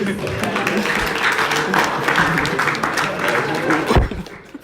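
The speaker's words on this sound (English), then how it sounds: "can we clap for them, please?" An audience claps at a press conference for musicians Stonebwoy and Shatta Wale, a dense, fairly loud spread of hand claps mixed with crowd chatter and brief talking, tapering off near the end.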